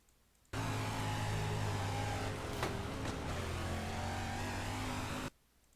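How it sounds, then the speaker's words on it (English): A dirt 305 sprint car engine in iRacing at Charlotte holds a steady, loud drone with a sustained harmonic whine, starting abruptly and cutting off after about five seconds, heard from the cockpit without talk. "listen to my engine here"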